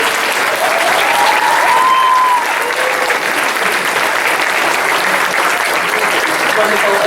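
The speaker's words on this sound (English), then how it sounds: "Can we give them a huge round of applause?" Loud, dense applause fills a school awards ceremony hall, a sustained roar of many hands clapping together with crowd noise and a few voices mixed in.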